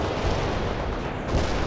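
Artillery barrage in the World in Conflict strategy game, a dense rumbling roar of distant shelling with heavy low booms rolling continuously throughout.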